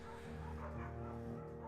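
A dog in the Firewatch video game gives short yipping barks and whimpers over steady in-game ambience, close and moderately loud for under two seconds.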